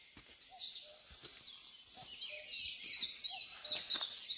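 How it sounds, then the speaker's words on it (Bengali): Various wild birds call and chirp in the hills around Aritar and Pedong, a mix of thin, high tweets and short notes, scattered at first and then thickening into a steady chorus with no talking. "তোমরা কতটা শুনতে পাও দেখো পাখির ডাকটা।"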